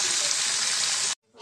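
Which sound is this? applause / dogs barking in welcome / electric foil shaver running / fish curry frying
fish curry frying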